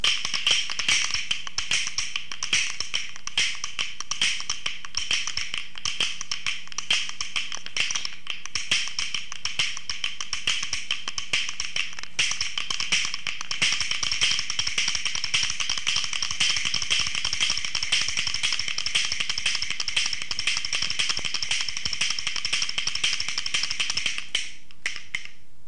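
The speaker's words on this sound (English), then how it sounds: "we do rolls with accents, and that sounds like this." Rhythm bones played in rapid continuous rolls with accented strokes, a dense, steady clicking rattle that runs unbroken for about twenty-four seconds, close and bright, with no voices.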